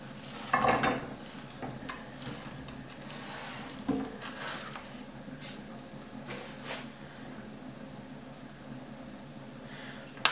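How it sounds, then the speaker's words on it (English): Chopped peppers and onions tipped into hot olive oil in a pan for a veggie burrito filling: a brief clatter and a burst of sizzle, another small knock, then a soft steady frying hiss. "And then we're going to add our peppers and onions"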